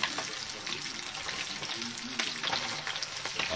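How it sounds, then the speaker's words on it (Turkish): Fish sizzles and crackles steadily in hot oil, a dense continuous frying hiss with no voices. "Evet arkadaşlar, balıklarımız kızarıyor."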